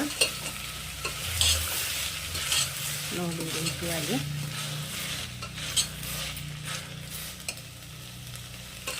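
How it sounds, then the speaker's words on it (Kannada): Spices frying in a little oil for a sambar tempering, stirred with a utensil: a close, steady sizzle with scraping strokes and light clinks against the pan, and a brief spoken remark. "ಈಗ ಇದನ್ನು ಚೆನ್ನಾಗಿ ಫ್ರೈ ಮಾಡ್ಕೊಳ್ಳೋಣ"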